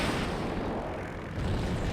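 Secondary weapon fire at abandoned gun towers in the Crimson Skies: High Road to Revenge aerial combat game, a dense continuous roar of explosive rumbling and booms, loud and sustained across the whole stretch.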